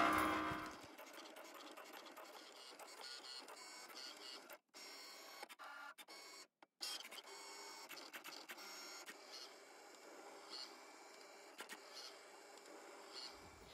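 A Cricut machine cuts shrink film with a fine blade, giving a quiet mechanical whir of the moving head with short motor buzzes and brief pauses, steady and close.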